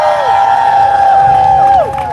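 Crowd at a youth protest rally against police in schools cheers and applauds loudly, a sustained roar of voices and whoops that holds steady before easing off at the end.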